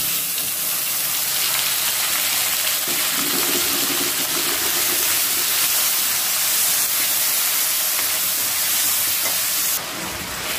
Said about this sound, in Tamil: இந்த தக்காளி நல்லா இன்னும் அரைகிற அளவுக்கு நம்ம வதங்கிக்கணும்